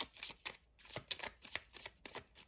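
Tarot cards are shuffled close up in quick riffling bursts, a soft rapid fluttering repeated several times with short gaps.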